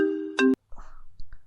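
A mobile phone ringtone plays indoors: a steady, tonal electronic ring for about half a second that cuts off abruptly, followed by a few soft handling rustles and faint clicks.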